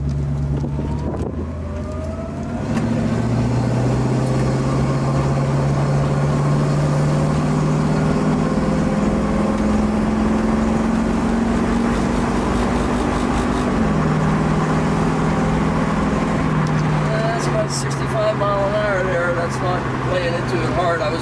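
1965 Ford Mustang convertible engine pulling under acceleration while driving, a loud steady drone whose pitch rises through the gear, drops at a shift, then climbs again, with someone talking over it.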